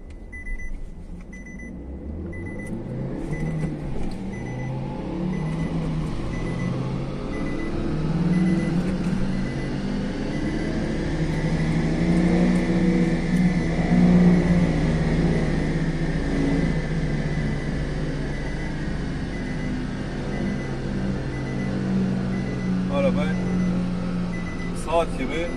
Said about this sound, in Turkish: Araba altı vites, daima test için başlıyoruz.